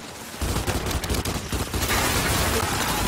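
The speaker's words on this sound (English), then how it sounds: "Well, the cryo cannon just annihilates them then." Heavy weapon fire in the co-op video game Gears 5, with a cryo cannon firing amid sustained bursts of gunfire, loud and continuous after a brief quiet start.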